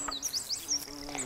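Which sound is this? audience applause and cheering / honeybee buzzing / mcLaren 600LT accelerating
honeybee buzzing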